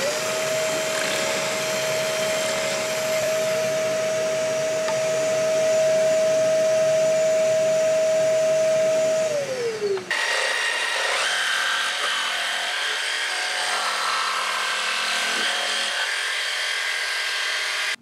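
A power drill bores through wood from the back side, with a loud continuous whine that drops in pitch as the bit bites, then a rougher grinding drone that carries on to the end.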